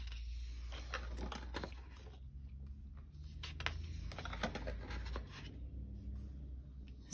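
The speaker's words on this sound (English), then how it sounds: "So you can hear as I'm turning the pages," Thick paper pages of an artist edition book being turned one after another, soft close rustles and flaps repeating at an irregular pace in a quiet room.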